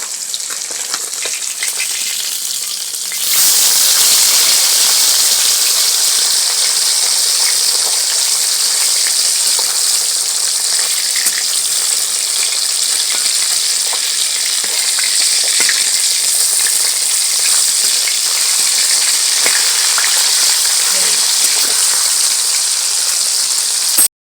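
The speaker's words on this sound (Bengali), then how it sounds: "মাছটা উল্টে দিচ্ছি বন্ধুরা" Bata fish frying in hot oil in a kadai after being flipped, a quieter sizzle that swells into a loud, dense, crackling fry after a few seconds and continues steadily up close.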